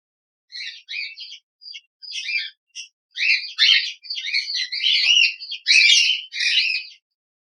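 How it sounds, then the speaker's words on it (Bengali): Pineapple conures call in a series of harsh, scratchy chirps and squawks, close and fairly loud, in short bursts separated by brief silences that grow denser and louder toward the end. "এই পাখিগুলো খুবই শান্ত এবং ভদ্র টাইপের"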